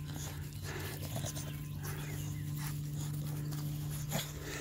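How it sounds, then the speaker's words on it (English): Micro exotic bully puppies romp outdoors with scampering and soft yips over a steady background hum, the playful activity continuing without any talking. "Letting the puppies get their energy out."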